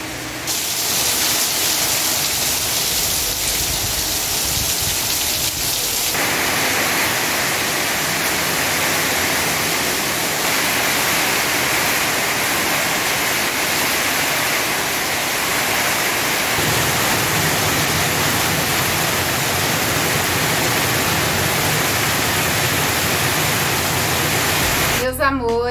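Heavy rain pouring down during an afternoon storm, a loud continuous wash of hiss and roar that swells partway through and stays dense to the end.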